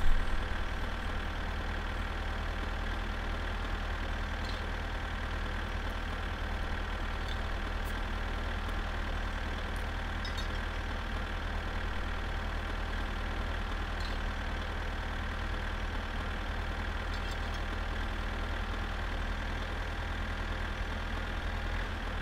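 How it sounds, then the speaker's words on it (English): A tractor engine from the video game My Summer Car idles and drones at an even pitch. The low hum runs unbroken and fairly quiet from start to finish, with no talking. "It is such a long drive in this tractor."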